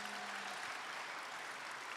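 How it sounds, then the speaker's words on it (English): Applause from an audience at an evening show of storytelling, music and comedy, a faint, even patter of clapping heard from a distance. "There's a big round of applause for that."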